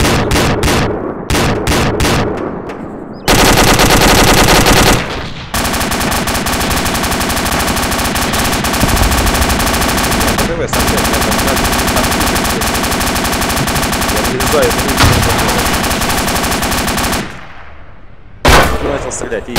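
Loud gunfire in the video game ArmA 2 ACE during an airport battle: a few sharp single shots open into long sustained automatic bursts, briefly broken, then ending with a last shot.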